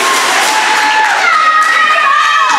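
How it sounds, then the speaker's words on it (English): A crowd roaring and cheering at a basketball game after a made foul-line shot, dense sustained cheering with a shrill whistle-like tone rising through it, loud and continuous. "And the crowd erupts like a volcano in Hawaii."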